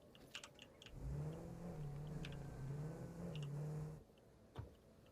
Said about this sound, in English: sometimes the engine just like revs up when you come to a stop